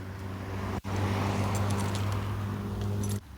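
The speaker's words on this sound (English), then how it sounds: "Watch out for the car" A car passes close by on a city street in Philadelphia, its engine and road noise a loud steady whoosh lasting a few seconds before cutting off.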